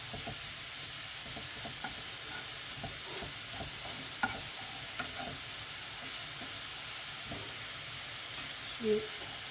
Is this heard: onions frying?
yes